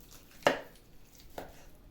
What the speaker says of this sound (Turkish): biraz dondurursanız daha güzel doğranıyor